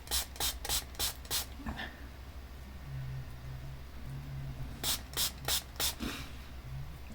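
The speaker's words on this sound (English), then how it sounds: "Then spray them, give them a good spray because I want them quite wet." Two bursts of quick spritzes from a spray bottle, each a run of short sharp hisses, separated by a quiet pause with a faint low hum.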